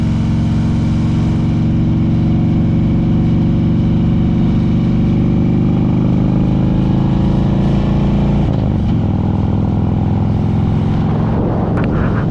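A motorcycle engine runs loud and close throughout after a downshift on a ride through Bryce Canyon National Park, holding a steady droning roar, with a brief change in pitch near the end.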